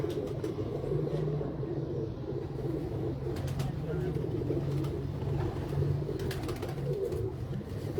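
Pigeons coo in a low steady murmur close by, repeated soft throaty calls running continuously, with faint traffic rumble and scattered clicks around them.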